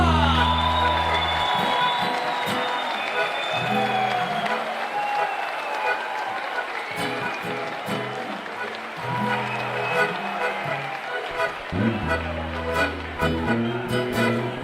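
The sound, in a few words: audience applause and cheering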